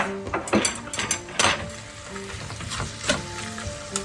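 Chicken gizzards sizzling as they fry in a pan, a steady crackling hiss broken by clinks and scrapes of a utensil against the pan, close and fairly loud.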